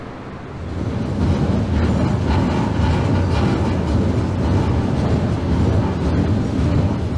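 A train rumbling along the rails, a low steady roar building as it gets moving, heard from close by without talking.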